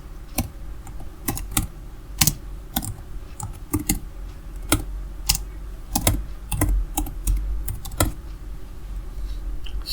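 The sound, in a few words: typing Python code on a computer keyboard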